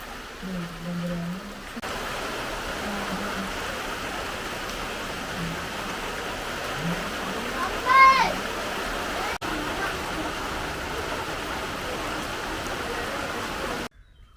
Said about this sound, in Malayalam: ഒന്ന് പെയ്യും കുറേ നേരം നിൽക്കും പിന്നെയും ചെറുതായിട്ടൊന്ന് ചാറും